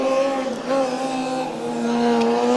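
A loud Coburg Formula Student combustion race car on a skidpad, its engine droning a steady nasal tone that dips briefly, then rises again as it circles.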